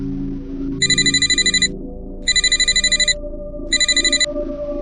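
A telephone rings in three evenly spaced electronic bursts, each a rapid warbling trill, heard over a low steady musical drone with no talking.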